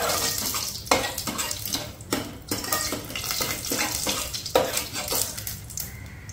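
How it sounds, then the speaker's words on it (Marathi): Cumin, mustard seeds and curry leaves fry in a pan, a close crackling sizzle broken by repeated scraping and clinking of a spoon against the pan, with no talking. "ते मातशे बरे तळसून घेवप."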